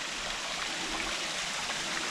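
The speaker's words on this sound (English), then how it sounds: "You can see the water leaking out of it." Water leaking from an old wooden supply pipe at a small dam in the woods, a steady, close rushing and trickling wash that holds even and continuous throughout, with no voices.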